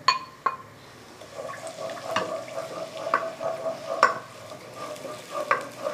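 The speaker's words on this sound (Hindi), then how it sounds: "प्याज को यहाँ पे हमने लाइट गोल्डन कलर में फ्राई कर लिया।" Chopped onion frying over medium flame in hot oil in a pot gives a soft, close sizzle, with a few metallic clinks and stirring scrapes scattered throughout.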